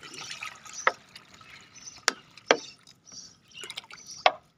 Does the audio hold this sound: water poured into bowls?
yes